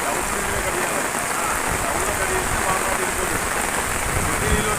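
Steady rain falls in a residential colony, a dense even hiss of drops pattering on surfaces, loud and unbroken, with no voices standing out.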